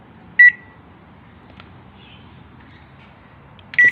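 A microwave oven being tested during a repair gives a bright electronic beep, then a low steady hum runs for a few seconds, ending with another loud beep, heard up close.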